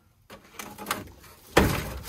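An old car door in a junkyard is pulled open, giving a creak and scrape followed by a louder clunk as it swings free, close by and with no talking.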